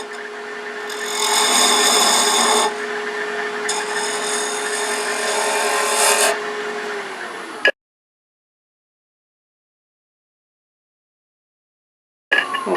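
A spinning wood lathe hums steadily while sandpaper rubs a small wooden wand, with two louder bursts of rasping, then the motor cuts out into silence before a brief restart.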